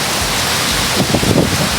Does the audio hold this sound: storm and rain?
yes